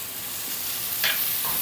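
Cut curry leaves hitting hot oil give a steady frying sizzle, with a brighter hiss flaring up about a second in and a softer spatter just after, close and alone.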